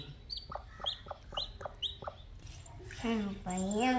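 Chicks cluck and peep in quick, short bursts close by. Near the end a person's voice comes in over them.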